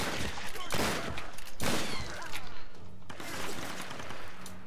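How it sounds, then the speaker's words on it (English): Shotgun blasts in the Tomb Raider video game, several loud broadband bangs spaced a second or so apart amid continuous combat noise, with brief voices mixed in. "You're gonna die to shotgun fire."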